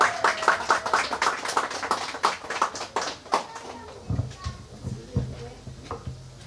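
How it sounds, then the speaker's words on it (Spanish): An audience at a church gathering gives a round of applause, rapid clapping that thins out after a few seconds into scattered claps and handling noises. "Muchas gracias por los aplausos."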